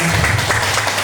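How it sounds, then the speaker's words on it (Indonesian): Audience applause at an Indonesian school gathering, SMA Negeri 1 Mataram, a short burst of dense clapping that fills the whole moment with steady broadband noise and faint voices mixed in. "Tepuk tangan dong"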